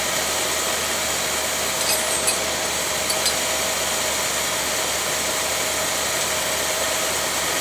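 A 1966 Chevy Biscayne big-block V8 with a rebuilt Quadrajet carburetor idling steadily and quietly, an even, unbroken hum with a couple of faint ticks near the start.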